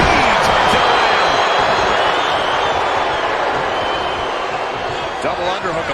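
A packed wrestling arena crowd roars at a Royal Rumble event, a dense loud continuous wall of cheering and shouting, with a commentator speaking over it.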